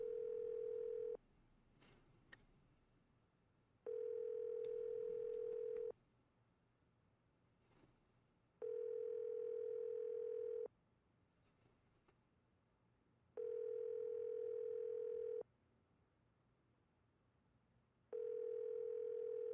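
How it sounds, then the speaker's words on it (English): Telephone line ringback in a Nancy Drew mystery game, steady electronic tones repeating in long even pulses with quiet gaps between them, heard alone. "Phone is ringing."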